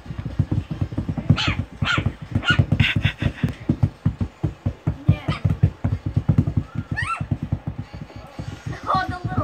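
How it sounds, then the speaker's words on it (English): Rapid rhythmic panting or snuffling fills the clip, with several short high yips of a puppy breaking through at moments. "Oh, the little one's barking."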